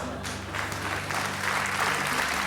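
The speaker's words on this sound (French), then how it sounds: "n'applaudissez pas" A studio audience claps on a French television game show: a sustained, even round of applause from a crowd, building slightly over the final seconds, with a low steady hum beneath.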